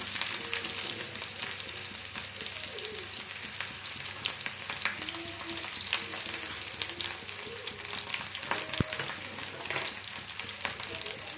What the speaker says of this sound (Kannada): ಈರುಳ್ಳಿ ಕಟ್ ಮಾಡಿ ಇಟ್ಕೊಂಡಿದ್ನೆಲ್ಲ ಅದು ಈರುಳ್ಳಿ ಹಾಕ್ಕೊಳ್ತಾ ಇದ್ದೀನಿ